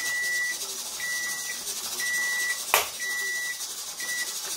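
A kitchen timer beeps in short repeated bursts, about once a second, steady and fairly loud against a constant background hiss while chicken legs are being home-canned, with one brief clatter midway.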